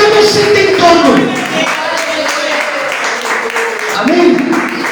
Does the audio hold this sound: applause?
yes